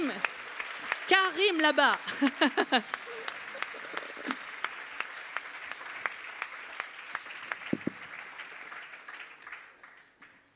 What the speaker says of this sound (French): Allez, applaudissez-les.